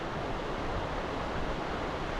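River water rushing steadily in Glen Tilt, a dense, even roar held at a constant level from start to finish with no voices.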